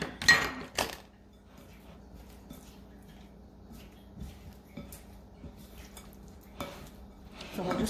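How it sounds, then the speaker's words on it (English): Strawberries being stirred into a pie mixture for an old-fashioned strawberry pie, giving soft clinks and scrapes of a utensil against the bowl, with a few louder knocks at the start and end and quiet stirring between. "So we're just stirring them up in there, getting them all coated with this yummy pie mixture."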